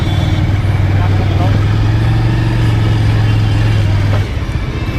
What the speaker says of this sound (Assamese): এই পাৰ্কিঙত গাড়ীখন এতিয়া সোমাওঁ